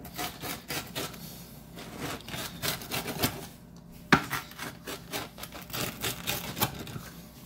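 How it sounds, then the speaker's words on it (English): Crispy thin-crust pepperoni pizza handled close up, giving dry crackly rubbing and scraping crunches in irregular bursts with one sharper crack midway, no voices. "I'm liking the sound of this one already because it's crispy."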